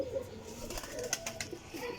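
Parwazi pigeons coo repeatedly nearby in soft, rounded low calls, several overlapping phrases with faint rustling, while someone speaks over them.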